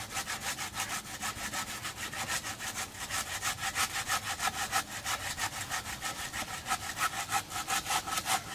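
Steady back-and-forth rasping of a 30 cm hand saw biting into a coconut tree trunk, rhythmic strokes repeating close by without pause.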